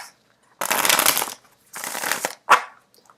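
Two bursts of rustling, riffling tarot card shuffles on a tablecloth, close and fairly loud, followed by a short sharp tap, with no voices.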